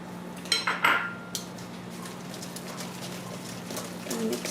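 Thick corn pie batter being mixed with butter in a pot over heat, a few clattering utensil scrapes and knocks early on, then quieter stirring over a steady low hum.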